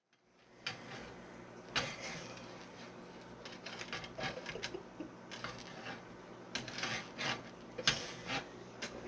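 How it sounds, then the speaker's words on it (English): Ambrosia salad ingredients are stirred in a bowl, giving faint repeated scraping and rubbing strokes in an irregular rhythm, close by and quiet, with no talk. "Go ahead and finish stirring those."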